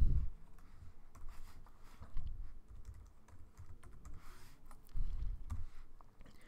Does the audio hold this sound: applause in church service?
no